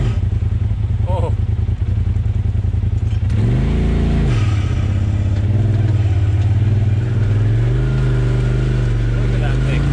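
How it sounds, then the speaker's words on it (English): An off-road Unimog truck on a rock crawl trail runs with a loud, steady engine drone that rises and falls in pitch as it revs, very close and dominant, with people talking briefly over it. "Oh, the Unimog's down there. I want to watch him ride."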